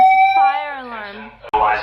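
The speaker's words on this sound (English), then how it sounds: "Fire alarm." Loud building fire alarm in New York, a harsh electronic siren tone close by, gliding in pitch for over a second before a brief gap and a burst of noise, with a voice overlapping it.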